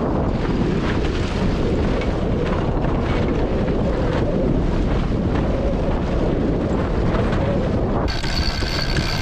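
Strong wind buffets the microphone on a sailboat under way while the sail is furled in, a steady loud roar and rush of air and water, with a brief rattling, flapping change near the end.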